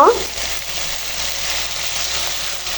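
Eggplant fries lightly in a pan with a steady, close sizzle and a brief stirring clatter at the start, with no one talking.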